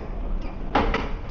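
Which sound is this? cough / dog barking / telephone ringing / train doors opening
train doors opening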